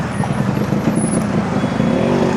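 A Yamaha RX100 two-stroke motorcycle pulls away on a Bangalore road, its engine giving a steady, dense, close rumble that holds loud throughout.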